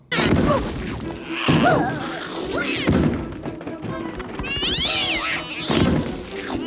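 A cat yowls and meows in distress inside drywall during a giant spider attack in the film Eight Legged Freaks, loud cries mixed with heavy thumps and crashing impacts, plus a brief muffled voice.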